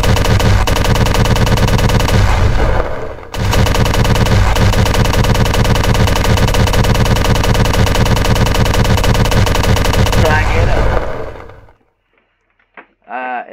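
Hex Spitter gun in a video game unleashing sustained rapid automatic fire for about eleven seconds with a brief pause, loud and continuous, then cutting off to near silence with a few faint clicks.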